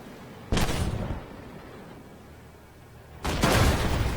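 Two loud autocannon shots from a Begleitpanzer 57 in the tank game Armored Warfare, each a sharp blast with a rumbling tail, about three seconds apart, with no talk.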